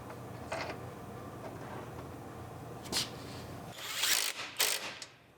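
A ratchet tightens bolts on collision repair parts for a 2018 Ford Explorer Limited AWD, giving faint scattered clicking bursts over a low background hum, with a louder cluster of clicks near the end.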